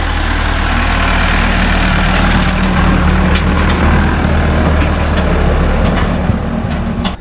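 A Massey Ferguson 285 tractor's diesel engine drones loud and close with a steady low rumble as it passes on a road in Ocosingo, Mexico, with no voices over it.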